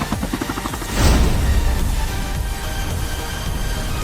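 Helicopter in Call of Duty Mobile battle royale, a continuous whirring rotor drone that swells after a moment and then holds steady at moderate loudness, with no speech over it.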